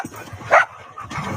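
A dog gives one short, sharp bark in the middle, with other faint dog sounds and quiet background noise around it.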